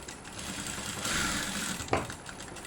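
A sewing machine whirs at close range as it stitches a blouse lining, running steadily for a couple of seconds with a brief mechanical clack near the end.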